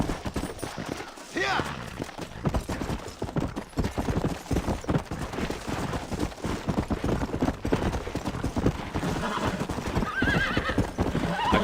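A horse in Red Dead Redemption gallops with rapid, continuous hoof clip-clops close by, with a whinny and scattered distant gunfire, while someone talks over part of it.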